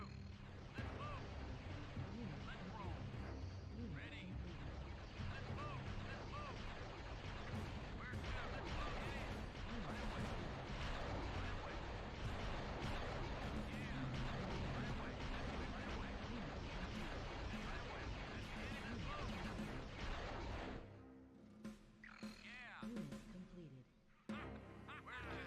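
Sustained heavy weapons fire from triple rail hover tanks in the real-time strategy game Dark Reign, a dense barrage of booming shots and blasts in a 1v1 multiplayer match, loud and continuous before abruptly thinning out near the end.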